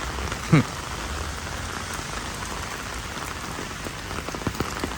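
Steady rain falls in Korea with a dense, continuous hiss of drops hitting surfaces and one brief louder knock near the start.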